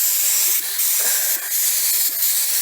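Spray gun laying a light dust coat of automotive paint over a shop truck part, a steady close hiss with short breaks between passes.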